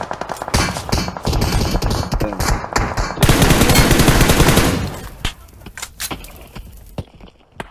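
Rapid automatic gunfire in the mobile battle-royale game PUBG Mobile, dense bursts of shots building to a sustained loud volley, then scattered single shots as it tapers off.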